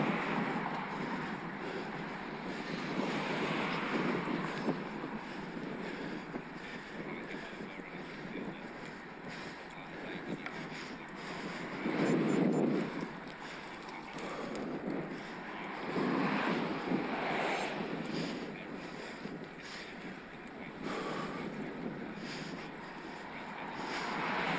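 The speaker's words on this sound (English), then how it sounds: "15 mile an hour headwind going up Long Hill today" Strong headwind buffets the microphone of a cyclist riding a Scott Addict RC eRide e-bike with a Mahle X20 motor up Long Hill in the Peak District, a continuous roaring rush with louder gusts surging throughout.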